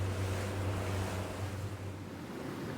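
Rough, stirred-up sea off the Norwegian coast near Vinjesjøen after stormy days: continuous heavy wave wash and rumble with a low engine-like hum, loud and steady, no voices.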